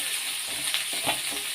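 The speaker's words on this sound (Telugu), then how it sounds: "ఇవి బాగా వేగాలి ఫ్రెండ్స్." Chopped onions, curry leaves and green chillies fry in hot oil with mustard seeds, giving a steady, close hiss and sizzle with a couple of faint stirring scrapes.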